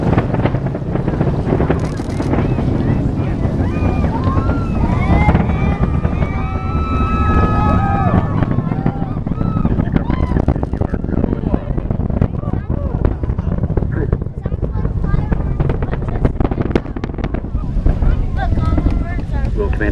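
Space shuttle Discovery lifting off on mission STS-133, a loud, continuous, rumbling roar with wind buffeting the microphone, steady for the whole stretch, with a faint voice beneath.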